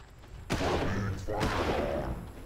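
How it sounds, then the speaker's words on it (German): Two loud rifle shots ring out in the video game Far Cry, about a second apart, each a sharp crack that leaves a rumbling tail over the game's background sound. "Zwei Schüsse reichen leider nicht, um ihn zu töten."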